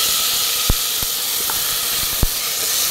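Rice roasting in a hot pan with cloves, a steady loud hiss and sizzle with a few sharp clicks and pops of grains against the metal, close and without speech.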